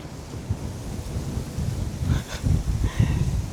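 Gusty outdoor wind buffets a camera on a tripod, a loud low rumbling roar with uneven surges and thumps against the microphone that grow stronger toward the end.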